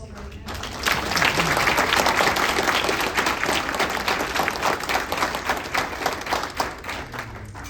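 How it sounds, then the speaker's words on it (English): An audience at an economic development appreciation lunch breaks into a full round of applause, dense and fairly close, swelling quickly after a quiet start and sustaining for several seconds before easing slightly. "Please join me in giving a round of applause for all this celebrating"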